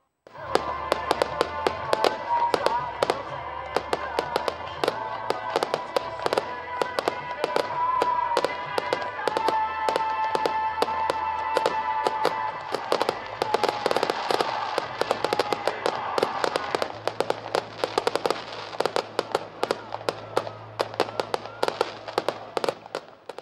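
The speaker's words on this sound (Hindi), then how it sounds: "डी चौक पर कायदे आज़म की सालगिरह की खुशी में शानदार आतिशबाजी की गई।" A long fireworks display at D-Chowk for Quaid-e-Azam's birthday, with dense crackling and popping bursts that keep going without a break over a low rumble.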